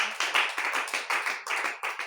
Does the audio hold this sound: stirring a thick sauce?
no